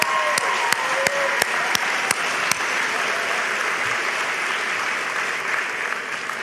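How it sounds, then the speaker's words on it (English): Applause from a crowd at a spring graduation ceremony, steady clapping of many hands with a few sharp individual claps early on, fairly distant and sustained throughout. "let's give them a round of applause for having got you here."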